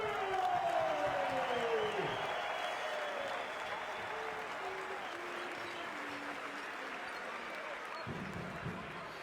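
Lithuanian fans at an Italy versus Lithuania basketball World Cup qualifier applaud and cheer in a sustained crowd roar filling the arena, with a whistle-like tone sweeping down early and a commentator's voice running over it.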